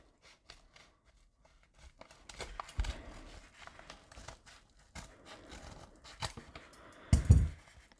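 A blade cuts through the wrapping around a graded hockey trading card with quiet, irregular snips and crinkles, then a louder rustling thump near the end.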